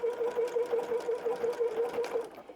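A sewing machine runs a zigzag stitch through fabric, making a steady, even, rapid stitching rhythm close by and fairly quiet, alone without talk.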